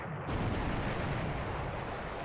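Heavy naval gunfire and shell impacts in a WWII naval battle game set in December 1941, a loud, dense rumbling barrage that starts abruptly after a brief quiet moment and continues without letup.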